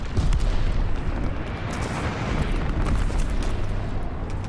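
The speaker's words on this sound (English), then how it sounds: "Allies call the bombing run." Heavy bombing-run explosions and gunfire in Call of Duty Vanguard multiplayer, a dense, continuous thundering rumble of blasts with sharp cracks layered throughout, loud and close.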